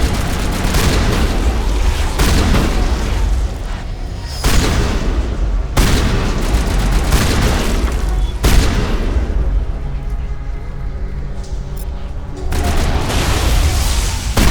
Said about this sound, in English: Switch to my shotgun.